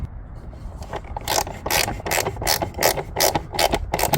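Rhythmic ratchet clicks sound close and crisp as bolts are tightened on a Mercedes-Benz S560 air filter housing, repeated short bursts of ratcheting strokes in a steady back-and-forth pattern.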